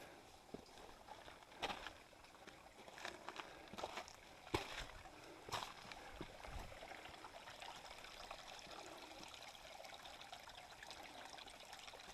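A stream runs over rocks beside a bouldery section of the Hunt Trail on Katahdin, wet after rain. Steady, soft rushing and trickling carries on throughout, with a few louder splashes or footfall knocks near the start. No one speaks.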